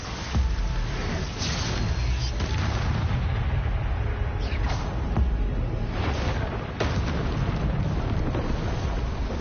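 Confringo, a fiery blasting spell cast in the Hogwarts Legacy game, with repeated loud bursts and booming explosions amid combat noise, several sharp impacts spread across the stretch over a steady rumble.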